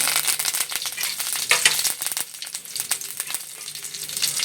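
Half a spoon of mustard seeds, dried red chillies and curry leaves crackle and sizzle in hot oil for a Kerala moringa leaf thoran, a loud, dense popping spatter close by.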